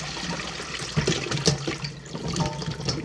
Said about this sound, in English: we will now drain the potatoes